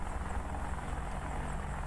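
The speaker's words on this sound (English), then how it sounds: "as you push the nose forward slightly, the helicopter should start rolling slightly" An AH-64D Apache helicopter's engine and rotor in the DCS flight simulator produce a steady, loud, continuous drone with no speech over it.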